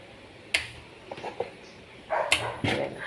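A dog barks a few times, sharp yips spaced apart against a quiet background, with a short cluster of barks near the end.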